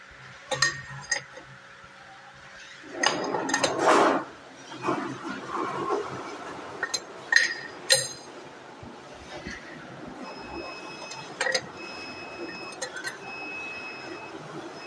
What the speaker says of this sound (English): let us put the cup into the rotor